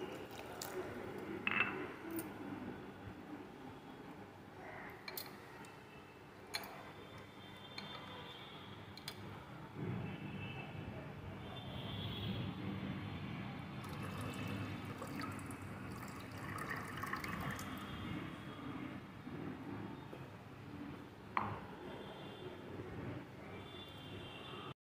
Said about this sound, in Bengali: আমি ভালো করে ধুয়ে নেব সাবুটা। আবারও একবার ধুয়ে নেব জল দিয়ে।